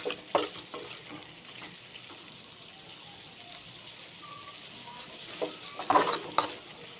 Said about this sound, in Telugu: మళ్ళీసారి కలుపుకోండి ఇలా చూపిస్తున్న విధంగా